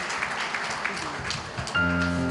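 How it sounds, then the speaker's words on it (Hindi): Church congregation in Thane, Mumbai clapping to welcome a pastor, a moderate patter of applause that fades out before a sustained tonal sound enters near the end. "let us clap our hands and welcome Pastor John."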